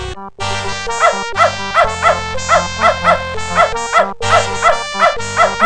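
A dog barking and whimpering in the video game Beneath a Steel Sky, over a looping electronic music track with a steady pulsing beat, loud and close.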